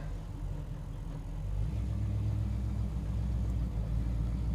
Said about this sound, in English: We're gonna turn around my car. We're gonna head out through that exit right there on the right.